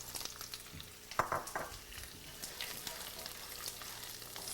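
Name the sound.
garlic sautéing in oil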